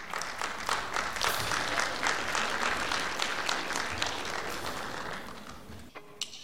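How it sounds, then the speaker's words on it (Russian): Audience at a charity concert applauding, a dense, steady patter of many hands clapping that fades slightly toward the end before a brief pause. "чтоб вы громче хлопали, громче, громче"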